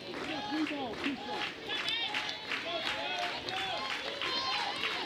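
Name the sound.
softball stadium crowd cheering at McWhorter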